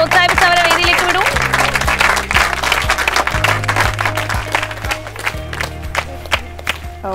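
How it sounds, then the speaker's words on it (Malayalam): A studio audience applauds on the stage of a Malayalam couples' game show on TV, with the clapping mixed under loud, steady music that plays throughout. "എല്ലാരും കൈയടിച്ച് പ്രോത്സാഹിപ്പിച്ച് അവരെ വേദിയിലേക്ക് വിടും"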